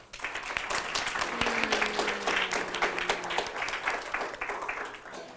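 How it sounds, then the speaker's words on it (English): An audience at a school environmental arts recognition event breaks into sustained applause, dense clapping from many hands that stays loud and steady throughout. "Let's have a round of applause for all of them."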